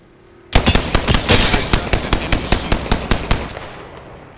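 Enemy gunfire in the video game Apex Legends: one loud, close burst of rapid automatic shots, about a dozen evenly spaced cracks over three seconds, then a fading tail.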